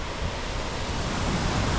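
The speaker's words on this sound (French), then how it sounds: "une cascade." A waterfall beside an alpine trail during an ultra-distance mountain race sends out a loud, continuous broadband rush of falling water, close by, with no talk.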